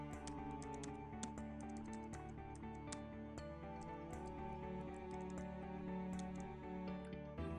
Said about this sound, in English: simply use the up and down arrow keys